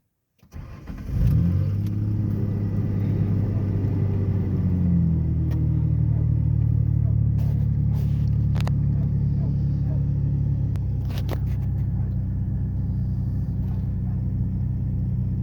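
A muffler-deleted 2003 Ford Ranger with the 4.0L engine cold-starts and settles into a loud, steady, deep rumble that holds close and unbroken throughout.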